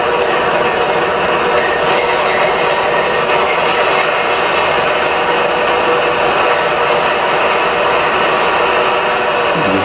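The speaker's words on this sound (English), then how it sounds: "You can hear the engines going faster." A steady, loud mechanical drone of a model train engine sound speeding up, run from an MTH DCS Commander, with broad hissing noise throughout, holding a dense, constant texture with no talking.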